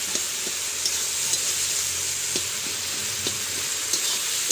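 Green peas sizzling in hot oil in a frying pan, a steady close hiss broken by light scraping stir strokes and soft utensil taps, with no voices.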